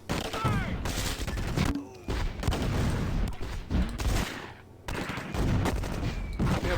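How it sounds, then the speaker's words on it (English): Mortars and small arms fire in the Close Combat World War II strategy game at Hill 192 near St. Lo: dense, overlapping bursts of gunfire and thumps crowd the scene continuously, broken by a couple of brief lulls. "We have mortars firing still."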